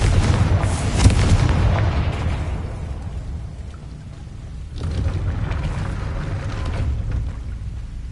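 A Confringo fire spell blast in Hogwarts Legacy booms loudly at the start and rumbles away, then a second rolling burst of fiery noise follows midway.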